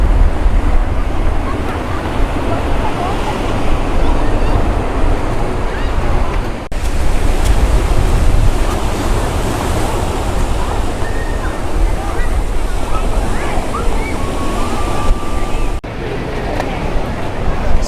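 At Sinquerim Beach in Goa, the surf roars loud and continuously, with heavy wind buffeting the microphone across the whole stretch.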